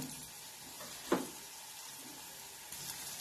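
Ginger garlic paste frying in a pan while making pav bhaji, a quiet steady sizzle with one short scrape of stirring partway through and no voices.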